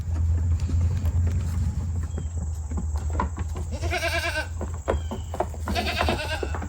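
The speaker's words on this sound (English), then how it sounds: "I've got 2 little goats down here just begging for attention." Two young goats bleat in repeated short calls around the middle and end, close by over steady low farmyard hum and shuffling.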